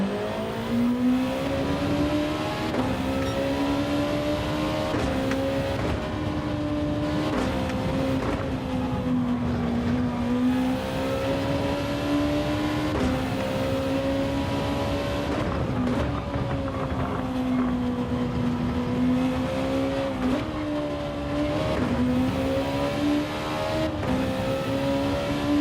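Race cars lapping a track in Gran Turismo 7, a continuous close engine drone rising and falling in pitch through shifts and acceleration, with other cars faintly audible behind.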